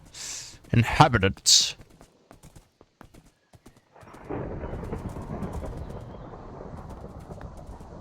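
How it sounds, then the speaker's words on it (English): Steady rain hiss in Minecraft sets in midway and continues evenly to the end, preceded by a few brief louder bursts and clatters at the start. "It's honestly terrifying, like all this rain."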